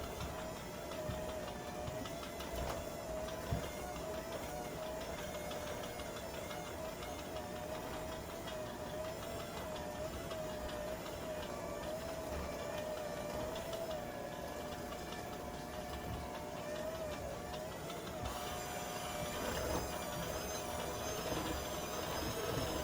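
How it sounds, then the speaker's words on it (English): A KitchenAid stand mixer mixes chocolate chip cookie dough with a steady, faint motor hum and a repetitive ticking churn that runs continuously throughout. "Put that KitchenAid to work."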